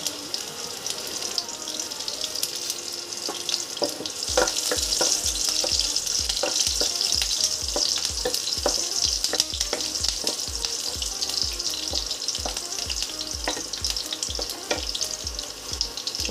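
Green chillies sizzle in hot ghee in a kadhai while sabudana poha is cooked for a fast. A loud frying crackle runs throughout, with sharp spatters and rhythmic stirring clicks close up and no talk.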